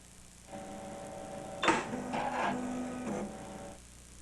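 Juki AMS-210B industrial pattern sewing machine running a test sew: a steady mechanical hum with a burst of rapid stitching clatter in the middle, close and moderately loud, with no voices.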